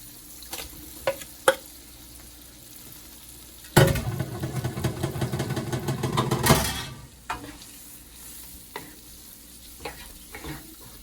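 Shrimp dropped into a hot pan of garlic butter set off a loud burst of sizzling frying with stirring clatter for a few seconds, then settle to quieter crackles and scattered taps.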